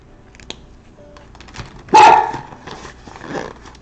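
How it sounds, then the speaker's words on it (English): A dog indoors wanting to go outside lets out a single sharp, loud bark after a few quieter yips and whimpers, with some faint household rustling around it. "I'm just gonna let my dog out."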